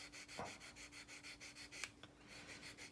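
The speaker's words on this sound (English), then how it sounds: "I'm just going to try to sand away anything that's not in that little bitty seam line that I got" Fine sandpaper rubbing along a seam line on a 1/72 Monogram plastic Space Shuttle model kit, a faint, soft, steady back-and-forth scratching in regular quick strokes, close by, with a couple of small clicks.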